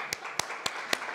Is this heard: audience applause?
yes